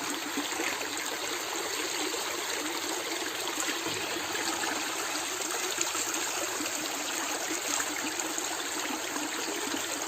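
Steady rushing of a flowing mountain stream, continuous and fairly close, with no voices.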